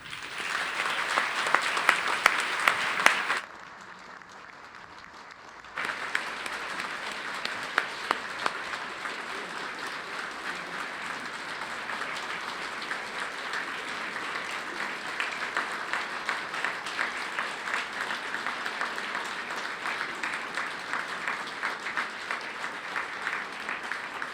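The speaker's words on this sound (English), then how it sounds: "I know that was a long round of applause there" Long round of applause from a graduation ceremony crowd, dense and steady throughout, briefly dropping to a quieter lull a few seconds in before swelling back to full clapping for the rest.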